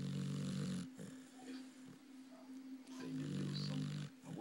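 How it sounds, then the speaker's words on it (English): A big dog snores loudly nearby in a home, long rumbling breaths repeating in a slow cycle, each inhale drawn out for a few seconds with a quieter pause between. "That big dog snores so loud."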